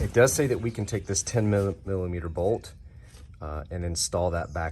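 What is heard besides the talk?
No everyday noise stands out behind the speech.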